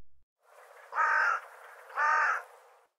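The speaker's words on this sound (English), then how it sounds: "The craws of the hooded crow are slightly modulated," A hooded crow gives two slightly modulated, somewhat musical caws about a second apart, clear and fairly close against a quiet background.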